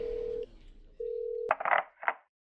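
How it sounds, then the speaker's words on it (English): Telephone dialing tones from a phone in an online game, a steady dial tone with a pause, then a quick burst of keypad beeps and a final short beep, loud and alone. "Oh, that does sound like a phone, doesn't it?"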